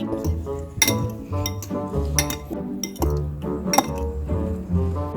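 A utensil stirring spicy noodles in a bowl, rhythmic clinks and scrapes repeating close up, with a steady tonal hum running beneath.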